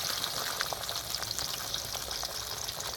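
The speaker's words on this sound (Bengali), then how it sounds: "তেল গরম হয়ে গেছে, এবার আমি মাছটাকে ছেড়ে দেবো তেলের মধ্যে" Pabda fish frying in hot mustard oil, a steady dense sizzle with crackling pops continuing throughout at close range, no voices.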